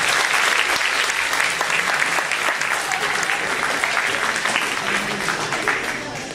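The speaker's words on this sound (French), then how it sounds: "on peut quand même applaudir les enseignants pour ça." An audience applauds teachers at a school project presentation, with loud, steady, dense clapping from a full room that carries on for several seconds.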